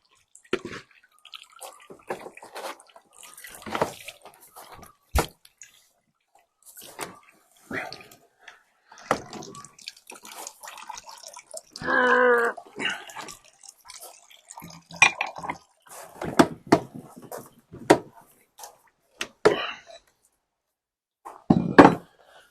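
Juice from a fruit press dripping into a bucket, irregular sharp drips and small splashes spread over a quiet stretch, with a brief trickling pour partway through and another near the end.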